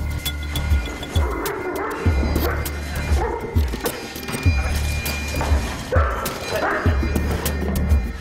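Two muzzled police K9 dogs barking continuously during an attack drill, amid a noisy scuffle, with thuds and clatter under a busy background.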